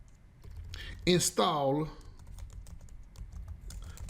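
Keystrokes tap steadily on a computer keyboard as a pytest pip install command is typed into a PyCharm terminal, a short spoken word briefly breaking over the close, quiet clicking.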